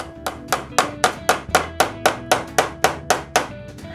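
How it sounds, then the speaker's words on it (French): A hammer drives a nail into wood for a Coca-Cola bottle box, about thirteen sharp, evenly spaced blows ringing out close and loud with no talk. "Ensuite, je remets le clou."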